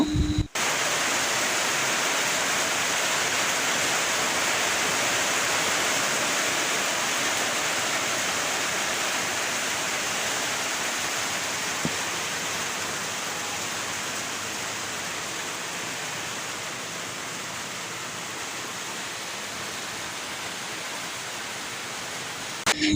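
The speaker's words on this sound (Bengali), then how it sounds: "আর এদিকে বাহিরে বৃষ্টিটা আরও জোরে পড়তেছিল" Heavy rain pours steadily outdoors, a dense, even hiss that holds at a constant loud level with no talk over it.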